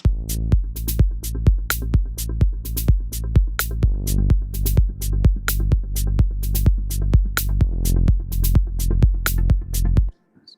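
A four-on-the-floor progressive house beat at 127 BPM pulses steadily with regular kicks, hi-hats and sustained synth tones, then stops abruptly near the end.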